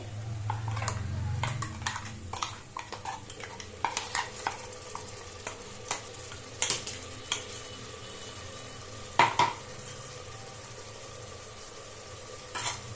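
Ground masala paste for a Udupi hotel-style veg pulao frying in a pan, with a low sizzle broken by sharp clinks and scrapes of a spoon against the pan at irregular intervals.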